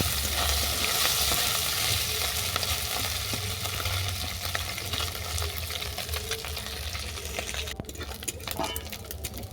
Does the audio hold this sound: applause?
no